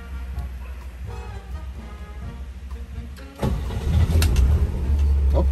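A 1957 Chevrolet Bel Air engine is cranked and fires up in Bali, with a low rumble from the start and a louder catch midway that settles into a steady, throaty idle.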